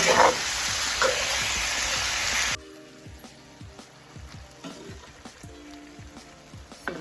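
Scallops and shrimp sizzle loudly in a pan for a couple of seconds, then the frying cuts off and quieter scraping and tapping of stirring follow.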